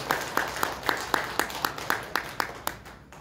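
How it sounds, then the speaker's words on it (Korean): Congregation applause during a Sunday church service: a run of about a dozen evenly spaced sharp claps, steady and moderately loud, without speech over it. "하나님께 영광의 박수 좀 드립니다"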